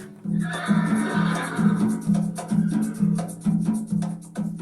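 A horse whinnies in a radio show opening, a drawn-out neigh with a steady tonal drone beneath it and a rhythmic pulsing pattern, loud and up close with no talk over it.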